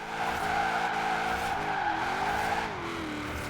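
A Mustang drifts in Forza Horizon 4, tires squealing steadily under a sustained engine drone whose pitch wavers and bends as the slide is held, loud and continuous with no talking.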